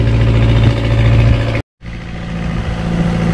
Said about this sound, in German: Da werden die Motoren da eben in Betrieb genommen, für die ganzen Dinger, die Wasserräder, da die Lufträder, wo Luft drin schaufeln